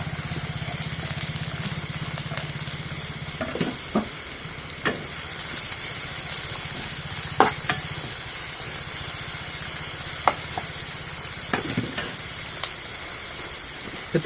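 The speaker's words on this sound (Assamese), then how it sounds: "এইখিনি এতিয়া ভালদৰে ভাজি ল'ব লাগিব।" Chopped onions and green chillies frying in hot oil in a wok for an Assamese pork curry, a loud continuous sizzle with occasional stirring scrapes and clatters.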